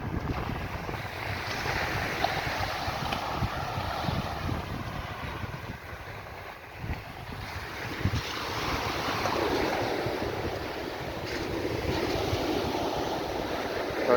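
Waves wash steadily onto Pebbles Beach along Carlisle Bay in Barbados, a continuous soft roar of surf mixed with gusting wind noise and no voices.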